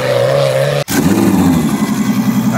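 A modified Ferrari F12 twin-turbo sports car engine rumbles loudly and close, running at a low steady idle and then shifting pitch as the revs change, with no voices.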